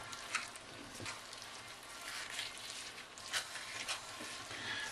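Mushroom risotto sizzles softly in a pan as it is stirred, a faint continuous crackle with scattered light scrapes of the spoon throughout.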